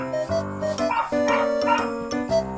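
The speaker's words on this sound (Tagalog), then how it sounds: "Again, kada magre-record ako kung ingay ng asong yan." A dog in the house barks and yips again and again at close range, in short loud bursts while a survival video game is being recorded.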